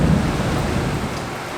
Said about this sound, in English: Like literally every 3 seconds there's a huge thunder.